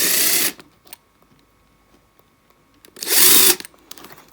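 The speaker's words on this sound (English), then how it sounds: "So I'm just drilling my little holes there" A small power drill with a 3.5 mm bit bores holes in cardboard, whirring at high speed in two short bursts close by, with near silence between them.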